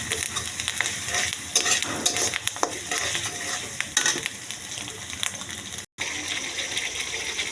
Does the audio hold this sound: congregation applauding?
no